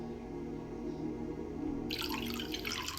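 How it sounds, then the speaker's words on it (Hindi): Tap water starts running into a glass partway through, a bright splashing stream that cuts in suddenly over a low background hum and keeps pouring steadily, with no voices. "चलो ग्लास में पानी लाते हैं."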